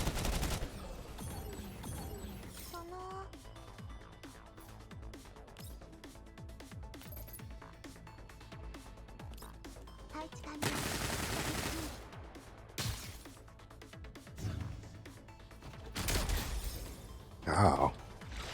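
Gunfire in the video game Girls' Frontline 2: bursts of rapid automatic shots and fusillades over about eighteen seconds, punctuated by mechanical clanks, sharp impacts and louder explosive blasts toward the end.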